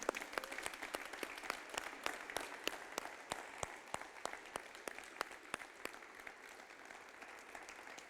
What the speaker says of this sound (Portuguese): Então dá uma salva de palmas para Jesus